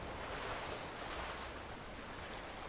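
Ocean surf rolling onto a beach in the Ghost of Tsushima video game, a steady broadband wash of waves with some wind, with no talk over it.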